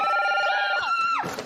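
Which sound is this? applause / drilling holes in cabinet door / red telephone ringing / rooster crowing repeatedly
red telephone ringing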